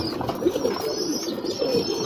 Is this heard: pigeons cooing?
yes